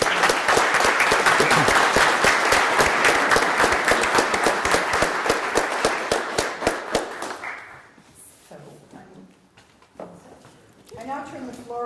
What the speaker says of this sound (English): please let's give them a congratulatory round of applause